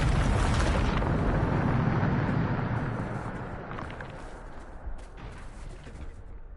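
Hogwarts Legacy's Bombarda spell sets off a huge roaring explosion that rumbles deep and loud, then slowly fades into a lingering crackling tail.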